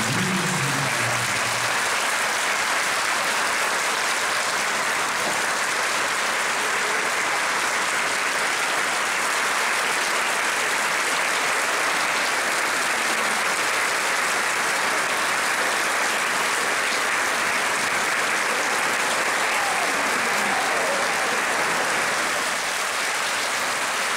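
Audience at a spiritist talk applauding in one long, steady burst of clapping that holds evenly at full strength for over twenty seconds, with no voices rising above it.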